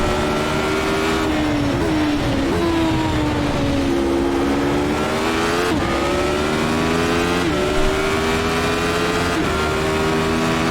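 A Radical SR8 race car in iRacing drones loudly and continuously at Road Atlanta, engine pitch rising and falling through gear changes with sharp shift blips, alone without talk.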